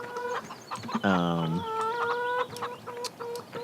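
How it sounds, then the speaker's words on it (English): Chicken clucking from a Farming Simulator 2013 farm game, with several close, repeated clucks and a louder squawking burst in the middle over a busy background of game ambience. "Shut up, chicken."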